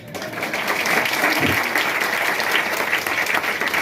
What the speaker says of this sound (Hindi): सर मुझे लगता है ये कार पे कम तालियां आ रही हैं।